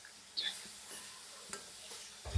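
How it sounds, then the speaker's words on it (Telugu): Bitter gourd pieces frying in a pan for a traditional Andhra-style tamarind curry, a soft steady sizzle broken by a few light scraping stirs and a clunk at the end. "వేసేసి రెండు కలిపి ఇలా వేగనివ్వాలండి"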